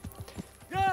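Horse hooves clop in a quick, steady rhythm as a rider sets off in the medieval video game Kingdom Come: Deliverance, ending under a brief voice.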